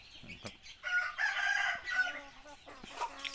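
Young roosters cluck and attempt a short, scratchy crow at close range, with brief clicks and rustling around them.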